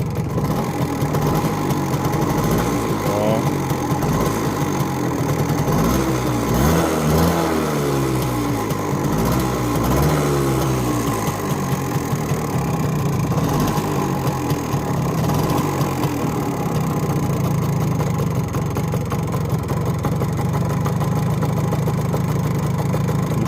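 An MZ 150 motorcycle engine with a carburettor jet in need of cleaning, sluggish on starting, runs steadily at close range for over twenty seconds with rising and falling revs in the middle, then settles to an even idle, with no voices.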